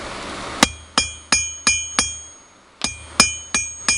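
Light hammer taps on the end of a steel rod, rounding off its corners: eight crisp, ringing metallic strikes in a steady rhythm with a brief pause midway, close and clear with no talking.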